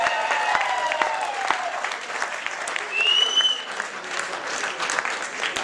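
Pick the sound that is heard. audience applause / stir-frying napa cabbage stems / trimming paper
audience applause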